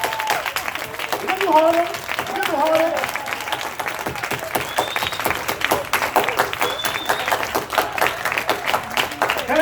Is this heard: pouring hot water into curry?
no